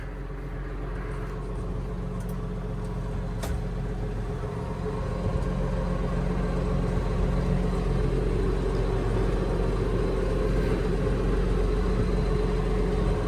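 A tractor engine runs steadily while its front loader is raised, giving a continuous low mechanical rumble that stays fairly even throughout, with no talk.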